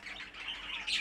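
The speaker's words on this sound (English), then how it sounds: "time to fill in the form and have a look at a few of these birds then." Show birds in a backyard aviary shed give a quiet, continuous run of high chirps and tweets over about a second, heard alone without talk.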